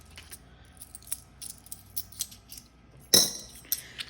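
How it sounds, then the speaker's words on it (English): Light metallic clinks and jingles of small coins being sorted, scattered taps with one sharper clatter near the end, close by and fairly quiet. "And I'll just take out the small coins and leave the bigger coins."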